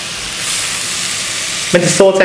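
Bacon and onion sauteing in a pan give a loud, steady sizzle and hiss up close; a voice briefly begins near the end.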